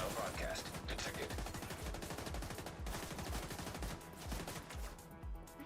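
Rapid video-game gunfire rattles in steady automatic bursts, a dense repeating clatter running for several seconds while voices talk over the shooting.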